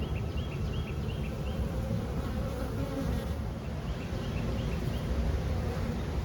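Honeybees buzz steadily from an opened hive during a hive inspection, a dense, continuous drone with no voices.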